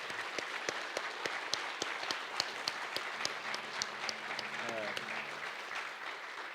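Audience applause at a sister-city signing ceremony between the City of Longmont and the Northern Arapaho, a steady wash of clapping from a moderately sized crowd with distinct claps standing out, while someone speaks briefly toward the end.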